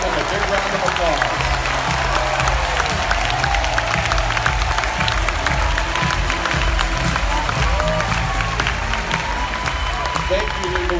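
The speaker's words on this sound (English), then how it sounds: "give them a big round of applause" A large convention audience at an Asia Pacific business gathering claps steadily and evenly, a broad continuous wash of applause with some crowd noise, holding at the same level throughout with a low hum beneath it.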